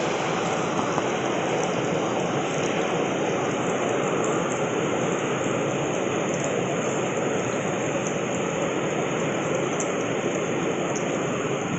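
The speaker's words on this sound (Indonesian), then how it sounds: "hujan cukup deras" Heavy rain falling at night in a Borneo rainforest, a dense, continuous hiss that stays loud and even from start to finish, with a thin, steady high tone above it that could be insects.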